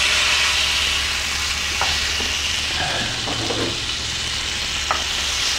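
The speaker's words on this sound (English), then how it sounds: "that you hear that beautiful sizzle. Sizzling sound." Chicken frying in hot oil gives a steady, loud sizzle with faint crackles and a few soft clinks of tongs throughout, no voices.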